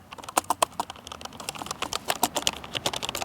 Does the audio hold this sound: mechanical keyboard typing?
yes